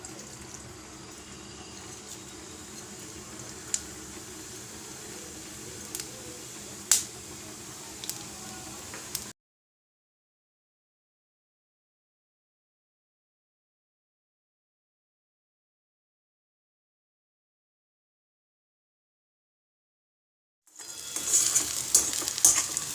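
Cumin seeds crackle and sizzle in hot oil in a home kitchen pan, a steady close frying hiss with sharp pops, then a long silent gap before the sizzling resumes near the end.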